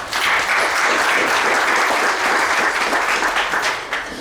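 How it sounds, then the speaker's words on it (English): Sustained audience applause at the 2013 SWOP Meanings of Marikana colloquium, a dense, even clapping that fills the whole stretch at steady loudness and tapers slightly at the end. "So it's a real pleasure to welcome him, and can we just have a round of applause for Tawana?"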